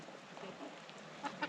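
Backyard chickens and a large rooster on a rural property give a few soft, brief clucks, faint and close together near the end of a short, quiet moment.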